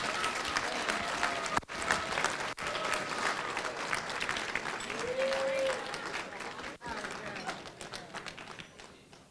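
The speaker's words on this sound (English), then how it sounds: "Big round of applause for Rachel's father" Wedding guests applaud the bride's father after the toasts, a continuous patter of many hands lasting several seconds, with a faint voice and some crowd murmur in the background as the clapping thins toward the end.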